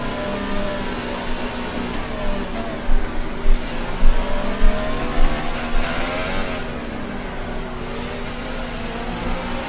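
Race car engine in the F1 2018 video game during a soaking wet China Grand Prix, a steady loud high-pitched drone with rising and falling revs and spray hiss throughout.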